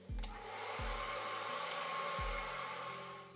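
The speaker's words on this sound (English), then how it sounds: "I'm going to use this hair dryer and kind of get some of that out" A hair dryer blows steadily at close range with a constant whooshing hiss, punctuated by a few low thumps.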